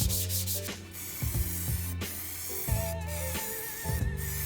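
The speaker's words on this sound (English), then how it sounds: "Now I just got to give it a bit of a sand back." Hand sanding back a primed TF125 motorcycle frame, rhythmic rubbing strokes repeating steadily at close range, with no talk.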